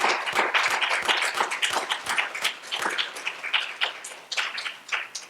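A church congregation claps together during a Korean Baptist Sunday worship service, a dense, steady round of many hands filling the room for several seconds without talk.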